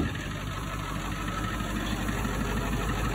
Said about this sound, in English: The roaring F-450.